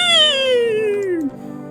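A cat in a video game gives a single long meow that falls steadily in pitch over about a second and a half, loud and close, and then trails off into quiet background.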